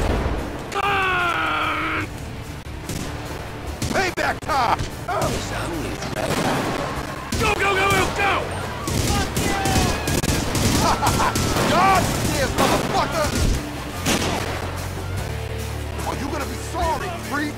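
Rapid gunfire bursts and volleys in Grand Theft Auto V crackle loudly and repeatedly, layered under shouting voices and game noise.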